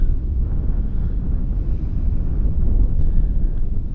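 Strong wind buffets the microphone with a constant low rumbling roar, steady throughout with no voices.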